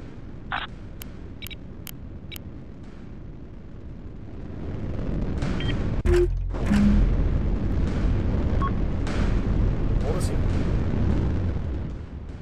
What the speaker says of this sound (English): Missile away, tube clear.